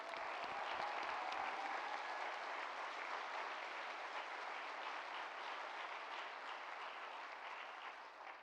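A large audience applauds a newly appointed university vice president at a state-of-the-university address, a dense, steady wash of many hands clapping that fills the room and tapers slightly at the end.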